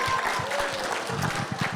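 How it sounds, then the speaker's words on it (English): An audience at a Muslim convention event breaks into applause, a dense wash of clapping from a crowd close by that carries on steadily for a couple of seconds. "You guys, big round of applause."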